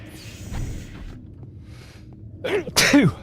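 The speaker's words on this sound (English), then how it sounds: "I don't know why I'm sneezing" A person lets out a sharp, close sneeze near the end, preceded by a quick inhaling catch, over faint background noise.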